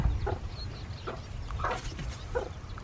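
Soft clucks from a hen and faint peeps of her week-old chicks come in short bursts over steady outdoor background noise.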